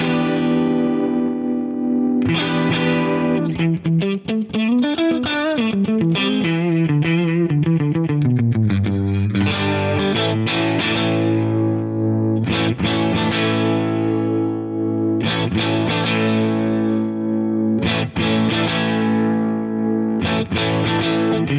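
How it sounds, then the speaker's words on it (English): An electric guitar plays through a Quad Cortex with chorus and cranked drive, giving sustained distorted chords and shimmering bends in a continuous, loud passage with no talking. "Let's just have a listen to this if I crank the drive up a little bit more and play around with the drive type."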